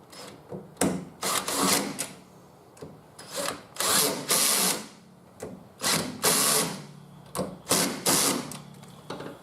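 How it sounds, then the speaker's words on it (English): A power drill or impact driver tightens nuts on a towing mirror for a 2002–2011 Isuzu D-Max, whirring in repeated short bursts of a second or so with brief pauses between, loud and close. "Just have a light torque setting on here if you're using a power tool"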